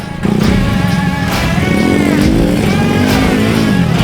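A flat track motorcycle does wide donuts, its engine snarling loud and close in one continuous run, the pitch wavering as the throttle rises and falls.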